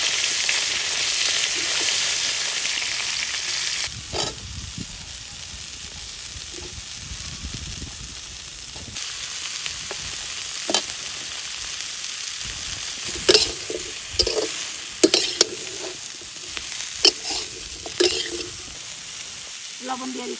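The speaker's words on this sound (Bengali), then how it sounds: "ফুলকপি ভেজে নিচ্ছি।" Cauliflower pieces fry in hot oil with a steady, close sizzle, and scattered stirring clicks and scrapes grow busier toward the end.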